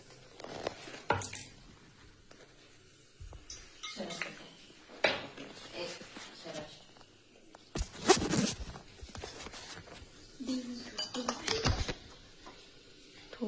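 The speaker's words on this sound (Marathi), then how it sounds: "आता हे सर्व आपण मिश्रण एकजीव करून घेणार आहोत" Vegetable Manchurian mixture, with garlic-cumin paste, salt, cumin and chutney, being mixed by hand in a bowl: irregular close scraping, squishing and clinking bursts with quiet gaps, no talking.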